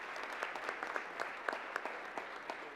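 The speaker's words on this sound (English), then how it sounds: "would you join me in a round of applause for all" Steady applause from an audience at a university athletic Hall of Fame and senior dinner, a fairly distant, even wash of clapping with a few sharper individual claps standing out, no voices.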